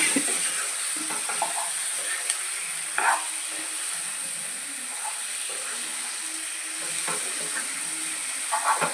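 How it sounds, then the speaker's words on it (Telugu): Fish pieces frying in hot oil for a tamarind fish curry, giving a steady close sizzle and hiss with occasional bubbling pops and stirring sounds throughout. "అయిపోయింది, వేగింది కదండి. చేప ముక్కలు వేసేసుకుందామండి."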